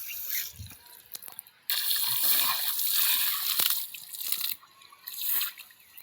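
Water gushes and splashes from a pipe broken by a tractor, coming in loud bursts of spray and sloshing that cut in and out, with brief quieter gaps between.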